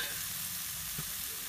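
Chili paste frying in a pan for a river stingray fish curry, a steady soft sizzle with a faint stir or scrape near the middle, no voices.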